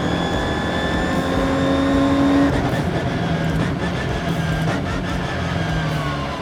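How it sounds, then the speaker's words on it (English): A Ginetta race car engine accelerates on a track, a steady mid-distance roar with rising tones as it picks up pace, no talking over it. "Charlie told me to open the Ginetta up and pick up the pace"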